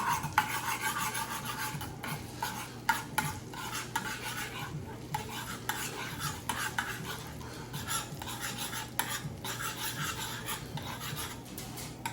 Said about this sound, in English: butter is being melted